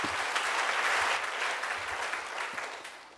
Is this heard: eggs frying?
no